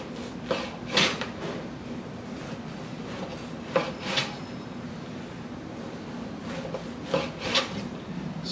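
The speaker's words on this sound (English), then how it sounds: "So then we're going to try a rustic loaf. This is olive bread that we're going to do some slices with." A Vie Belles 10-inch Reserve series bread knife saws through a rustic olive bread loaf, giving soft rasping strokes in uneven clusters, close and moderately loud against a quiet background.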